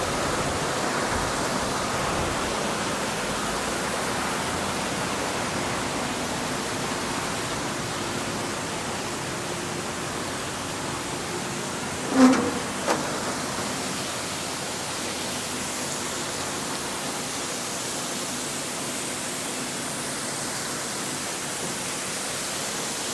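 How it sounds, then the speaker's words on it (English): A sand washing plant with twin 44-inch screw drums churns sand and water, producing a continuous broad rushing wash like a waterfall, with a brief metallic knock midway. "There's a 44-inch drums, and those are what spin the sand and carry it up to the conveyor belt."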